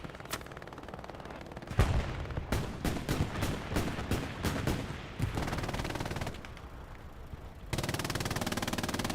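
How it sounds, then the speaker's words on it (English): Machine gun fire in the World War II shooter Hell Let Loose, rapid bursts of dense, heavy shots crackling in close succession, broken by short pauses with sustained rattling volleys. "MGs go burr, man."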